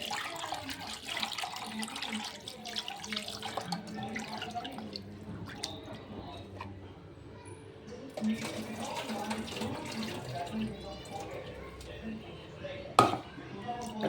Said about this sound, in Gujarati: બે પાણીથી એને હું વોશ કરી લઈશ.